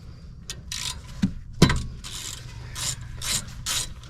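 A 5mm Allen wrench loosens the rear brake caliper slide bolts on a 2015–2024 Subaru, giving a series of quick ratcheting clicks with a couple of sharp metallic knocks in between.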